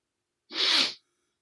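A single sharp sneeze, loud and close, with a breathy hiss burst lasting about half a second, surrounded by silence.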